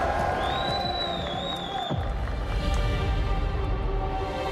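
A home crowd at an EWC Rocket League esports event in Saudi Arabia roars and cheers in a steady, dense wash of noise, with a brief electronic whistle-like tone early on.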